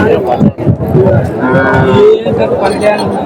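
Cattle, cows and bulls, at a busy livestock market in Chintamani, giving loud close moos over a background of crowd chatter and people talking.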